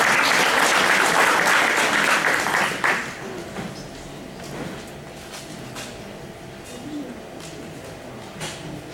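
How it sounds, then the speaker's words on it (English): Applause from an audience at a general meeting, a loud burst of clapping for about three seconds that quickly dies away into quiet room noise with faint murmurs. "Let's give these folks a round of applause."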